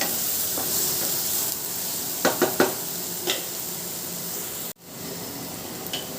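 Ginger garlic paste fries in a pan with a constant close sizzle, broken by several sharp scrapes and taps of a spoon stirring, then a brief sudden dip before the hiss resumes.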